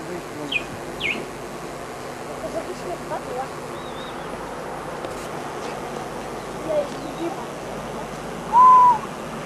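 A toy bird water whistle with only a little water in it, played during family music-making, gives a brief bright warbling trill near the end, with faint chirps earlier over steady background hiss.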